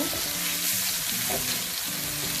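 Garlic paste sizzling in a skillet on a stovetop as it is mixed in for roasted potatoes, a dense continuous hiss with low scraping and tumbling underneath, close and steady throughout.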